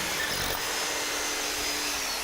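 A machine drills steadily into the ground, a continuous harsh grinding whine with a high mechanical tone, loud and unbroken from start to finish.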